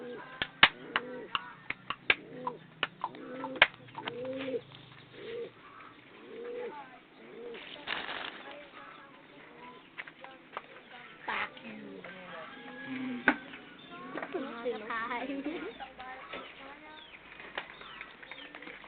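Pigeons coo in repeated soft, throaty phrases close by, with occasional wing flaps and clicks, and people talk faintly in the background.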